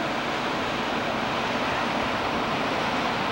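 Steady broadband wash of beach surf, a continuous rushing roar with no distinct breaks, fairly loud and close, no voices.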